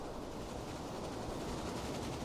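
Steady low rumble of a train running in the railway building game Railway Empire, a continuous rolling wash with no clear individual clacks, moderately loud and alone without any talk.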